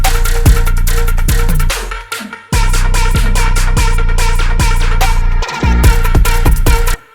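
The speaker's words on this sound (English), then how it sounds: "the whole drum beat together sounds like this" A loud, layered electronic drum beat, with punchy kicks and a tonal snare layer repeating in a steady pattern. The beat cuts out briefly twice before it returns.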